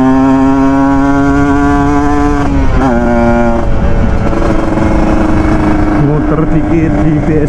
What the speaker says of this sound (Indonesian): Bensin sudah full, saatnya gas.